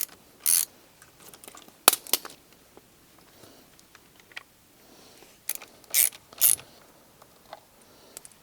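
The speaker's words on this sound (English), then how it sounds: "Now you're going to loosen these two screws using an 8mm socket." A ratchet with an 8mm socket loosening front fork screws on a Honda CRF300L motorcycle, several short bursts of crisp ratcheting clicks separated by quiet pauses and small metallic taps.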